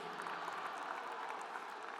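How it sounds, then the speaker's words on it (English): Applause from a large audience at a fall graduation ceremony, a dense, steady wash of many hands clapping together from a distance, faint but continuous without any voices standing out. "Big round of applause."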